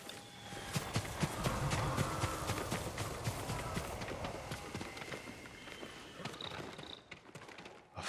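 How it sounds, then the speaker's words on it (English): In the video game Ghost of Tsushima, a farm horse's hooves clip-clop steadily in a brisk, even rhythm that runs for several seconds, fairly faint, with no talk over it. "I want to look at his horse."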